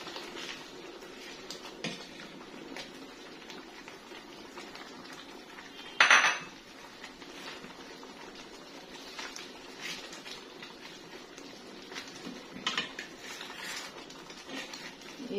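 Half a cup of coconut goes into chui pitha, hand-cut semai noodles, in a pan, with soft spoon scraping and one sharp metallic clank of utensil on pan partway through.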